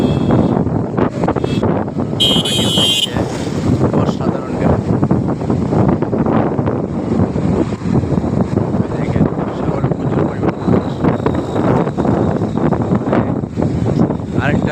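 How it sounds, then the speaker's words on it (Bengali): Strong wind blowing over the sea, a loud, steady roar and buffeting against the microphone that fills the whole stretch without letting up. "আজকে সাগরের সাগরের প্রচুর পরিমাণ বাতাস দেখেন সাগরের পানি"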